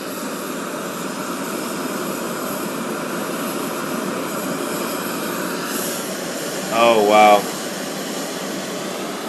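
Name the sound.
camping stoves roaring while boiling water, Jetboil and Coleman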